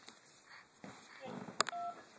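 A toddler presses telephone buttons, producing two short sharp dialing beeps close by, with soft talk and handling noise around them.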